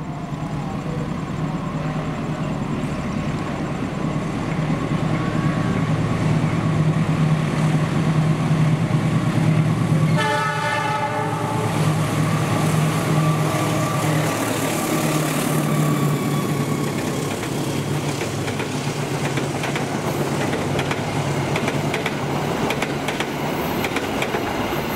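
An Indonesian Mataram passenger train passes at Bekasi Timur, a continuous loud rumble of locomotive and rolling cars with a horn blast sounding near the middle.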